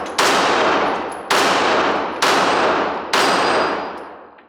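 Four loud, sharp gunshots from a Smith & Wesson M&P Shield EZ pistol fired at a target, spaced roughly a second apart, each a bright crack with a ringing decay and no talking.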